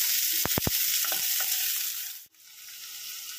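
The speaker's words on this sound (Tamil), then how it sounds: "ஸோ இது நல்லா கொஞ்சம் ஃப்ரை பார்த்திங்கன்னா, பச்சை மிளகாய், ஒரு வெங்காயம், ஸோ இது நல்லா வதங்கட்டும்" Green chilies and onion sautéing in a pan, a steady close hiss of frying with a few sharp spatula scrapes early on, and no voices.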